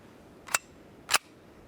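Two sharp pistol shots from a Hi-Point JHP .45 ACP handgun, about half a second apart, loud and close with no talking.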